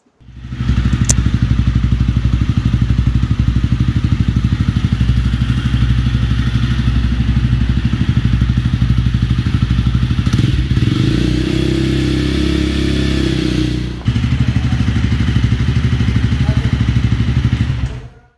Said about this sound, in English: I hope you like the sound of our upgraded exhausts.